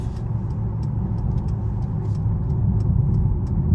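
A 2023 Mercedes E450 All Terrain wagon cruising down a road gives a loud, steady low rumble of engine and tyre noise heard from inside the cabin, continuous throughout with no speech.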